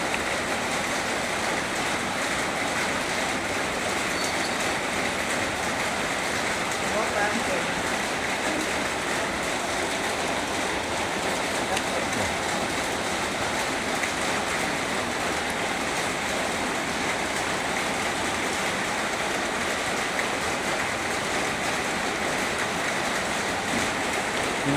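Steady rain falling outdoors during a family meal cooked in a rural home, a dense continuous hiss of close, loud rainfall with no breaks.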